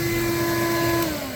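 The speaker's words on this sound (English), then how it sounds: "I'm going to start with the vacuum and see if I can just suck it out." A vacuum cleaner drones steadily with a strong tonal whine, held against a BMW E46 M3 wheel center cap to try to suck it out, the pitch dipping slightly near the end.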